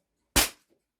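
A single sharp, short crack from a Beretta PX4 Storm 4.5 mm BB air pistol firing, close and loud, then quiet.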